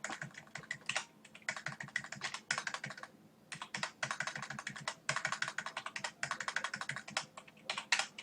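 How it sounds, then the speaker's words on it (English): Rapid typing on a computer keyboard during a data-entry task, with bursts of close, crisp key clicks separated by short pauses and no talking. "So I'm going to start typing so you guys can see how it works."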